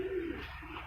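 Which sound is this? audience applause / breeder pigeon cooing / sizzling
breeder pigeon cooing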